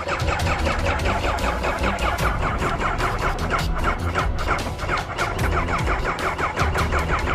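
Motorcycle engine cranking and sputtering without catching, a loud, continuous rattling churn that never settles into a steady idle.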